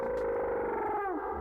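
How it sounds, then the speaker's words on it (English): A dinosaur call from the game Dinosaur Simulator, likely an Allosaurus or Saurophaganax, a sustained, tonal, processed-sounding cry held about a second with a slight pitch wobble and drop at the end. "And here's the call."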